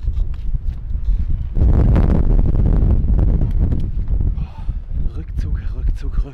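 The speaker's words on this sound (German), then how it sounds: "Der Wind macht es auch noch viel unheimlicher." Strong wind gusting outside a building, a loud, steady broadband roar that rises sharply after a quieter start and keeps buffeting throughout, close to the microphone.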